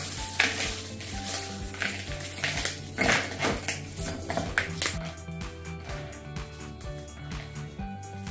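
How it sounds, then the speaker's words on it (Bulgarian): Biscuits are crumbled coarsely by hand into a bowl for a no-bake biscuit pine cone dessert, giving close, irregular crunching and crackling bursts over soft background music. "Половината от бисквитките си ги натрушавам по-на едро."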